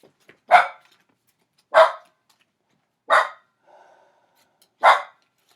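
A dog in a Valley of the Kings: Afterlife board game session barks four times, sharp and fairly close, with even gaps between the barks and quiet in between.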